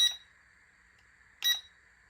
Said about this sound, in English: Beeps when you press it.